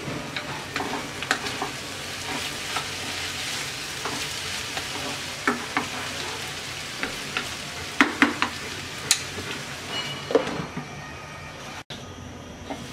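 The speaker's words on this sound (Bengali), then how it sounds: "ঢাকনা খুলে আবার নেড়ে দিচ্ছি।" Yardlong beans fry in an uncovered pan with a continuous sizzle, while a spatula stirs them in intermittent scrapes and sharp clacks against the pan, close up.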